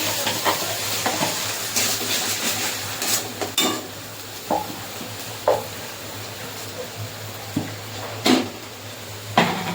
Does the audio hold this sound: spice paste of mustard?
yes